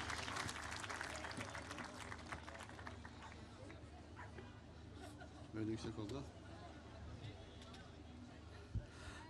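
A crowd applauds to welcome Kadıköy mayor Mesut Kösedağ at a party gathering. Broad clapping mixes with crowd murmur and a few louder bumps, all fairly distant and washed together.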